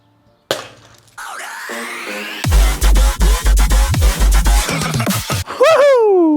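A soda drink is thrown from a building onto unbreakable glass, giving a sharp impact followed by a rapid run of loud clattering knocks and cracks, then a final bright ringing hit.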